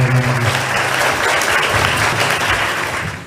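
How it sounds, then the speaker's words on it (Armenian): Steady, dense crowd applause at a ceremony for a schoolchildren's swimming tournament, held at an even level and easing slightly as it closes, with no talk over it. "Ծափերով եկեք ողջունել"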